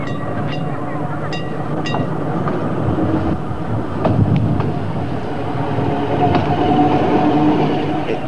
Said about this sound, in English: Today, a Sheffield tram is in use